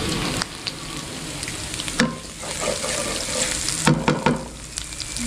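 Nasi goreng sambal korek sizzling and frying in a pan, a steady crackling hiss with a few louder clatters of stirring near the middle and later, close up with no talk.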